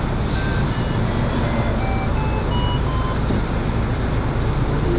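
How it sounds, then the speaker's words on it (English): A series of short electronic beeps stepping up in pitch, one after another, over a steady background hum. "After each beep you release it and there's a different function"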